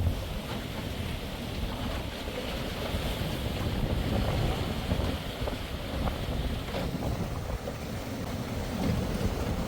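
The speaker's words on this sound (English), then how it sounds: "just got a bit of a wind coming in" Wind buffets a sailboat on a lake during a broad reach in rain, a continuous broadband rush with microphone gusts and water noise, loud and steady throughout, with brief voices underneath.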